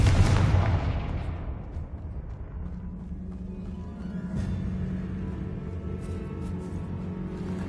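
A booming explosion from the Confringo spell in the video game Hogwarts Legacy bursts loud at the start, then rumbles and decays into a low sustained tail with faint crackle.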